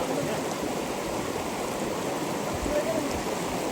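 A cold snowmelt stream in the mountains along a hiking trail, flowing in a steady, continuous rush of water close by, with no clear breaks and no talk.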